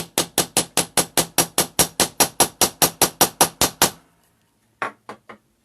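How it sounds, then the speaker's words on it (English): A hammer strikes repeatedly on a craft table while a mini wallet is being made: a fast, even run of about seventeen sharp, close knocks, then a pause and three more blows. "And you're going to hammer"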